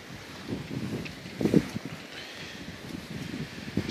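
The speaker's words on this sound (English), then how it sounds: "the wind is actually getting up" Wind gusting against the microphone, a low buffeting rumble that swells and fades in uneven bursts.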